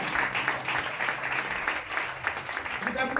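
A church congregation claps and cheers for the elder brother, a thick patter of applause mixed with voices from the crowd.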